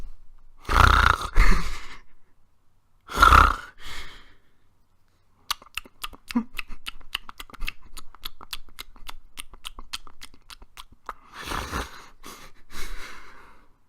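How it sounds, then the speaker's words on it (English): Slow, heavy breathing with loud snorting inhales and sighing exhales, close by, with a long stretch of soft rhythmic ticking in between. "That was the sound of a sleeping young lad."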